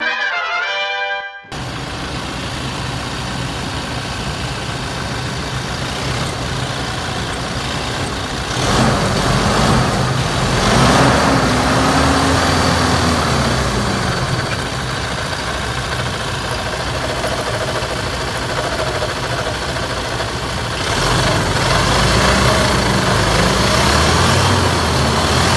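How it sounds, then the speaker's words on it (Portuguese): A car engine idles steadily and loudly, a continuous low rumble that swells slightly a couple of times as it runs. "escuta o barulho do motor"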